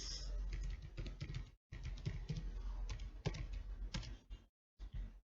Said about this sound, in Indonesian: Dan kita ketik scriptnya.